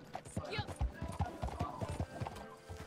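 Horse hooves clip-clop in a steady trotting rhythm in the Red Dead Redemption 2 video game, with a short whinny, fairly quiet and heard under someone talking.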